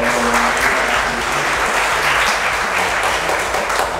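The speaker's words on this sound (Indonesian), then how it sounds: "Tepuk tangan dong." Steady applause from a seminar audience, a dense wash of many hands clapping at an even loudness throughout, with no voices above it.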